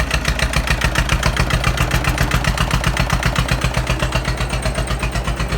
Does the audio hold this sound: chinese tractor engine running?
yes